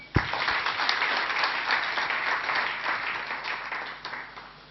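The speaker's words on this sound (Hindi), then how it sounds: "तालियां हो जाए।" Audience applause at a product knowledge seminar, a sharp onset followed by a dense wash of clapping that gradually fades over several seconds.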